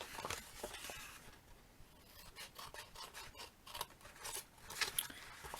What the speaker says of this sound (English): I'm cutting off that corner